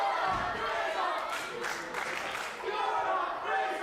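A crowd at a robot combat event cheers and claps in a steady, fairly faint wash while a commentator talks over it.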